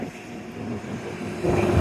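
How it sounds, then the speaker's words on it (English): A tractor drives past on a walk near Shaldon, a low engine rumble that swells louder toward the end of the brief moment, with no talking. "Nice bit of tractor action."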